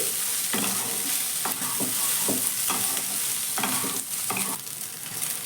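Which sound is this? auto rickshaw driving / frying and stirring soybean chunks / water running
frying and stirring soybean chunks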